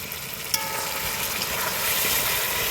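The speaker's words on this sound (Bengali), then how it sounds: "এবার ঢাকনাটা তুলে নাড়িয়ে নিব।" Ridge gourd and potato frying in a covered pan: the lid comes off with a brief clink, and a dense, close sizzle and stirring follow without pause, with no voices.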